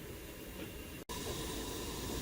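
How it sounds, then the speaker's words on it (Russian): Chicken boils in a pot on a high flame, giving a steady, broadband hiss and bubbling roar that continues with only a brief break, with no talk over it. "Итак, друзья, наша курица начала кипеть."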